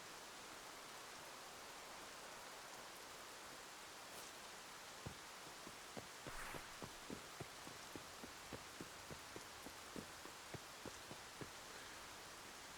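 Rain falls in Escape from Tarkov's Interchange map as a faint, steady hiss, with soft rhythmic taps or thuds repeating through the second half.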